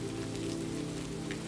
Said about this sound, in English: the gentle sound of rain